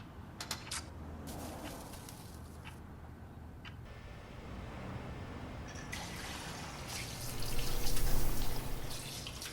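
A tap runs steadily as someone washes their hands, water splashing and dripping with a few clicks early on, the flow swelling louder toward the end.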